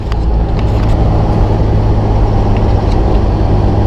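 Jeep Wrangler JK on 40-inch tires climbing uphill under throttle, a loud, steady low engine drone with road rumble heard from inside the cabin.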